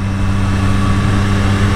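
Yellow 2023 Triumph Street Triple 765 RS motorcycle idling, a steady, even engine hum with a low throbbing pulse, close up and alone.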